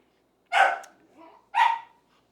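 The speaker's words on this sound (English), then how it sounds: "he's a very, very loud puppy boy" A loud puppy barks indoors, two sharp close yaps about a second apart with a softer whine-like sound between them, in an otherwise quiet room.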